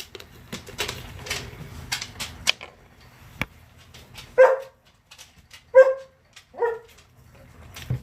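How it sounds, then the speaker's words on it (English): A dog harasses a cat indoors, with scuffling and rattling noises followed by a few short, sharp barks and yips spaced apart, moderately close. "All the noise you hear in the background is my dog attacking one of my cats."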